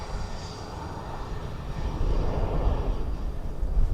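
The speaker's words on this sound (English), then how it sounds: "the aircraft noise was definitely clipping at the top end" An aircraft engine roars steadily at Dublin Airport, a broad loud rumble that swells louder halfway through, with no voices.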